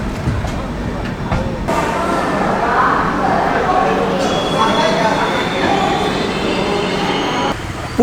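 The Durg Puri Express rolls into the station at Puri with a loud, steady rumble of wheels and carriages. A brief screech of brakes comes through, and people talk over the noise.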